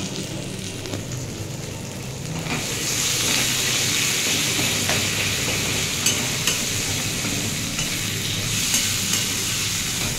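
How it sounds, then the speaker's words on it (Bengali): Onion and tomato fry in a pan with a steady, fairly loud sizzle. The hiss swells after a few seconds, and occasional scraping clicks come from stirring. "আমার পেঁয়াজটা ভাজা হয়ে গেছে"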